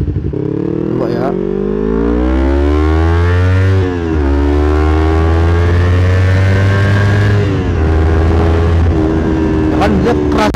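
Motorcycle running on Liqui Moly oil, engine revving hard on a test ride with a loud rising and falling drone through the gears, close and continuous, with a voice speaking over it.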